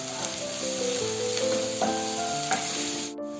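Chopped onions with salt sauté in a pan for Kerala-style prawns masala, a close, continuous hiss of frying with light stirring scrapes and soft background music playing throughout.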